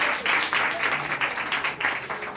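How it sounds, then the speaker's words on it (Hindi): A church congregation claps for God and the worship team at a Christmas service, a dense wash of many hands applauding steadily and fairly loud throughout. "हम क्यों ना परमेश्वर के लिए तालियां दें और इन वर्शिप टीम के लिए भी"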